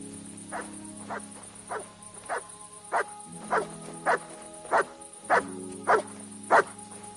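Mutt the dog in Kingdom Come: Deliverance 2 barks about a dozen times at an even, steady pace, single clear woofs over a quiet ambient drone with faint tones.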